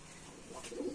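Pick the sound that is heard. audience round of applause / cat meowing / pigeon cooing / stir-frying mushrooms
pigeon cooing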